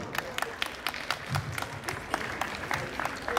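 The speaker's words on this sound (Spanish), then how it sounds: "Aquí recibimos con fuertes aplausos." Wedding guests at a reception hall applaud with scattered, uneven claps over a murmuring room, with a few voices underneath.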